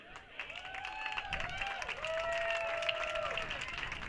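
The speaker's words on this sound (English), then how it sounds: "let everybody give them a big round of applause" Crowd applause at a baseball game fills the clip with dense, steady clapping, joined by a few rising and falling whistles and cheers.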